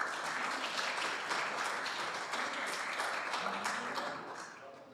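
Audience round of applause at a family history gathering, steady dense clapping from a room full of people that holds level and then begins to fade out at the end.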